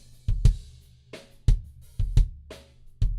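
Unprocessed kick drum in a Logic Pro mix with the SSL G channel strip bypassed, thumping in an uneven groove of about nine hits over three seconds, each low thud followed by brief higher drum and cymbal decay, with no talking.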